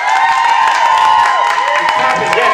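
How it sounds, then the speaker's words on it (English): A crowd at a magic show during a tattoo expo claps, cheers and whistles together in a loud, dense burst. Sustained whistle tones ride over the steady roar of many people for the whole stretch. "And clapping, yes. And cheering. And whistling."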